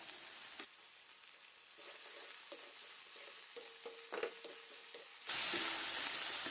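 Ginger and lemongrass frying in a pan, a steady soft sizzle with a few light stirring clicks, quiet and close, with no talking.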